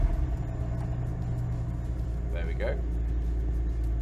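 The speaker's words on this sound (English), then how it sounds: "We'll start the car and wait for the oil light to go out." BMW E46 M3 with its S54 engine settling into a steady, low idle rumble after start-up, continuous throughout with a brief voice over it.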